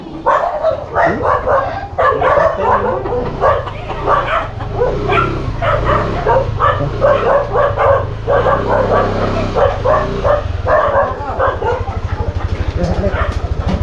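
A fierce dog barks again and again, close and loud, mixed with whimpers and yips, while people talk underneath through most of the stretch.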